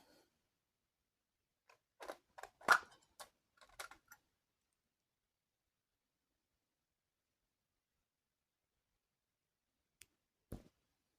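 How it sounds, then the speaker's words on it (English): Scissors snip a loose end of crochet yarn: a quick cluster of small, crisp clicks and snips in near silence, followed after a long pause by two more faint clicks. "And then we just snip that end."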